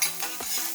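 Finely chopped onion hits hot oil in a tempering with curry leaves, giving a close, bright sizzle with quick stirring scrapes of a spoon in the pan, brief and with no talk.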